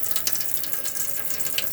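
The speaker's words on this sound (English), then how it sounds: "we've got the taps open on the hot side" Water runs from the open hot-side taps on board a 2018 Coachman VIP 545 caravan, a continuous hissing spray with faint clicking and gurgling from the pipes.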